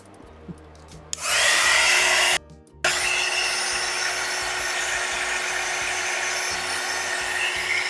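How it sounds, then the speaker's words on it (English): A loud, steady blowing whoosh from a heat gun starts abruptly, cuts out briefly, then resumes and drones on evenly, close by with no speech. "It's my heat gun again."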